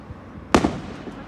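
A single sharp Independence Day firework bursts close by, one loud crack with a brief rumbling tail, set against a quiet background.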